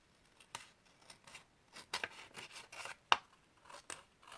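Several short, crisp snipping sounds in an irregular rhythm, close by and fairly quiet, like scissors cutting through paper.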